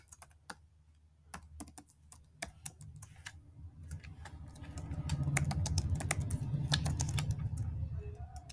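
Code typed on a computer keyboard, with steady clicking keystrokes in irregular bursts, close and fairly quiet, over a low background hum that grows slightly louder midway.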